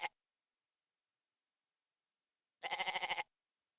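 A goat offered as a wedding sacrifice bleats once in a rapid, quavering burst, loud and close, after a brief sharp sound at the start and a long silence.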